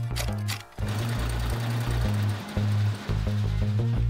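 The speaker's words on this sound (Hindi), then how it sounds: "कंप्यूटराइज्ड एम्ब्रॉयडरी मशीन से बैक पॉकेट पर एम्ब्रॉयडरी करी जाती है" A computerized embroidery machine stitches the back pocket of a pair of jeans, giving a steady, loud, rapid mechanical chatter with brief pauses and shifts in rhythm.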